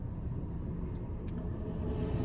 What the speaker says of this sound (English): there is some big old trucks coming, and I'm waiting for them to.